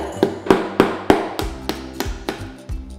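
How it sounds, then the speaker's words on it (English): A mallet hammers a golf tee into a cardboard box, giving about ten sharp, close taps in a steady rhythm, each a hollow knock on the cardboard with a quick decay and no talking. "with the other hand, we want to take the mallet and we want to hammer the golf tee into the"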